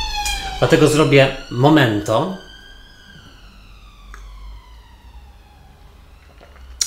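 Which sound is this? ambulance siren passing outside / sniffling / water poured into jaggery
ambulance siren passing outside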